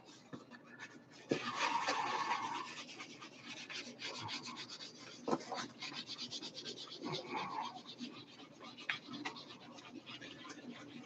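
A dry erase marker writing on a board, soft squeaky rubbing and scratching strokes in bursts, close but fairly quiet, with occasional small knocks.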